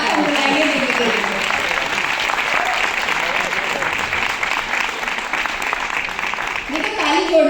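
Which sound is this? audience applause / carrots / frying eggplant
audience applause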